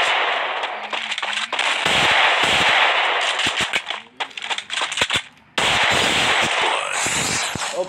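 Rapid gunfire from the video game Free Fire during a one-versus-one room match, loud dense bursts of shots nearly back to back, with brief gaps and a sharp resumption after a short pause.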